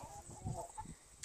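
Chickens cluck softly in a barn on a Wisconsin farm, a few low, close clucks over faint background hum.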